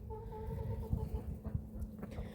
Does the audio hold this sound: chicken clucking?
yes